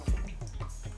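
Water splashes and drips into banku being molded in a blue calabash, a short close wet patter with a few soft drops and no talking.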